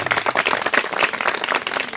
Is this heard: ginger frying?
no